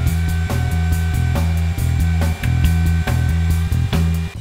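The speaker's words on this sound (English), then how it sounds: "I'm going to make a slot in each corner to receive the ebony spline" A router set in a mortiser cuts slots into the corners of a wooden desk part to take ebony splines, a loud steady whine broken by regular short dips as the cutter makes repeated passes.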